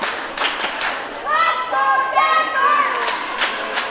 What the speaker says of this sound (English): Denver fans making some noise in the crowd as well.